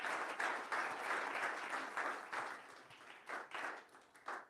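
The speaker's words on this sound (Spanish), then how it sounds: "Dale un aplauso a Jesús." Dense applause and clapping from an audience at a Spanish-language church sermon, loud and sustained throughout, swelling and easing in waves with a few sharper clusters of claps near the end.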